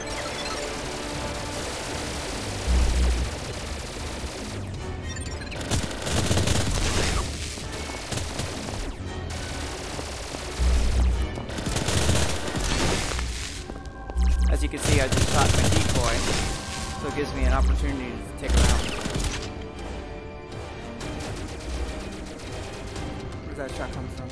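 Gunfire in the pre-alpha VR game Boiling Steel on HTC Vive: loud shots in irregular bursts, some rapid like automatic fire, set against a dense, busy game soundscape.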